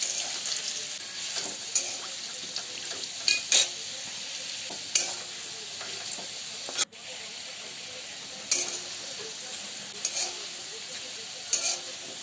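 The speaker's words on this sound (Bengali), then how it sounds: "এই আলু ভাজা তেলে দিয়ে দেব সয়াবিনগুলো" Soybean chunks fry in oil in a pan with a constant loud hissing sizzle, broken by several sharp scraping stirs and clatters from a utensil.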